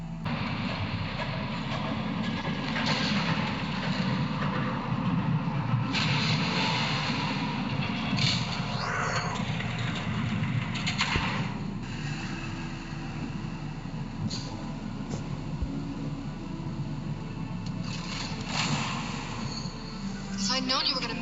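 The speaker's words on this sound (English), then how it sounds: "There's a train coming." A train approaches and rumbles past in the Batman Telltale Series video game, a steady low roar and rattle of wagons holding for about twenty seconds with occasional metallic squeals and clanks.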